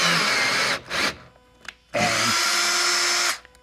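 A power bolt tool whirs while setting a rivnut into a Jeep JLU frame for rock sliders: a long loud burst, a short one, a pause, then another long steady run.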